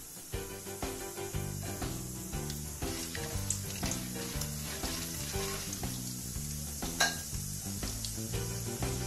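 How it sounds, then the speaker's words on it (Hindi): Chana dal sizzles in hot oil at the start of a suji upma, giving a steady close crackle and hiss that runs throughout with a tonal background of music over it. "हम डालेंगे चना डाल पहले चना डाल फिर डालेंगे हम"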